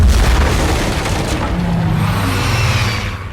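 A heavy bomb explosion near a harbour jetty in a war film booms loudly, a deep rumbling blast that rolls on and slowly fades over a few seconds.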